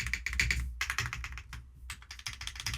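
Zoom65 V3 mechanical keyboard fitted with unlubricated Wuque stabilizers, typed on in quick, uneven bursts of close clacking keystrokes with short pauses between.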